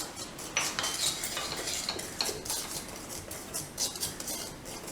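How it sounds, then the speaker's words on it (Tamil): Semolina (rava) roasting in a pan as a utensil stirs it, giving soft repeated scraping and light metallic clinks of spoon against pan, quiet and steady with no talking. "இப்போ இந்த ரவையும் நம்ம வறுத்துக்கலாம்."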